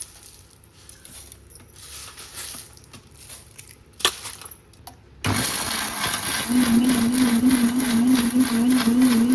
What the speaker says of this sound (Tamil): நல்லா ஃபைன் பவுடரா வந்துட்டு வீட்டுல அரைக்க முடியாது, நம்ம மிஷின்ல கொடுத்துதான் அரைக்க முடியும்